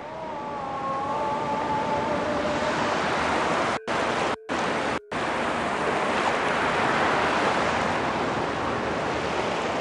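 Ocean surf rolls in along the north coast as a loud, steady, broadband roar that fills the whole span, interrupted by three brief dropouts near the middle.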